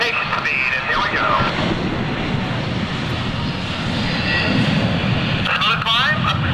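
C-9B Skytrain jet aircraft at an airshow reaching rotation speed on takeoff: a loud, steady roar of jet engines and rushing air from the cockpit, with a pilot talking over the noise.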